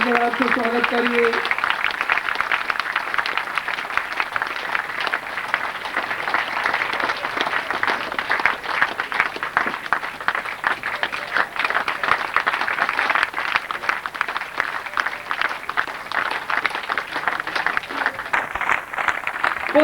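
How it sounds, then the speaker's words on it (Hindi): An audience claps steadily in welcome of a guest at a 1998 Holi spiritual camp gathering, dense sustained applause filling the hall throughout, with a brief voice at the start. "तालियों के साथ पूरा आपसे स्वागत करिए।"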